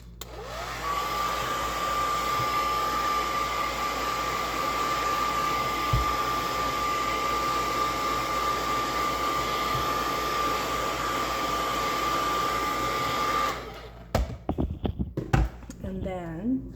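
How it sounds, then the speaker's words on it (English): A hair dryer blows steadily on an artist trading card craft piece, a loud constant whoosh with a high whine, then shuts off and gives way to a few taps and handling sounds. "Let's just give her a quick blow dry."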